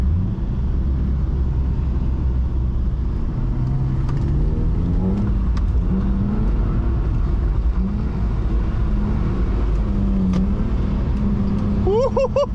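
Steady engine drone from a BMW E46 320i held on the throttle in second gear while drifting on a wet road, heard from the cabin. Pitch swells and dips smoothly with loud continuous road rumble underneath and no talking.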